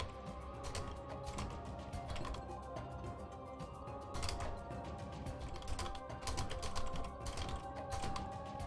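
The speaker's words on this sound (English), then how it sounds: "Typing." Rapid computer keyboard typing clatters steadily and up close, with uneven bursts of key presses and a few louder clusters, during a Kingdom Hearts II randomizer gaming session; no one speaks.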